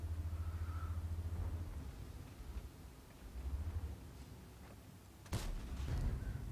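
A tank gun fires in a video game: one sharp close blast near the end over a low engine rumble and distant battle noise.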